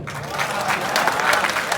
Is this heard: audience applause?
yes